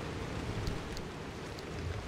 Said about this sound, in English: Oh, the rain sounds nice.